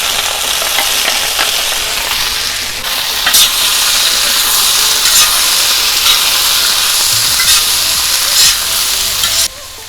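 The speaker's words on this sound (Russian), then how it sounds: "у нас буквально 30 секунд обжаривались ананасы с имбирем и с чесноком" Pineapple, garlic and ginger fry in a hot pan with a loud, constant sizzle and hiss, broken by scraping stirs, then cut off abruptly near the end.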